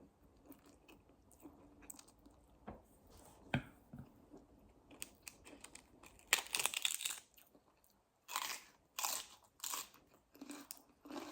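Crunchy bites and chewing of food during a Thai meal at home, close and loud in irregular bursts, with quiet gaps and no talk.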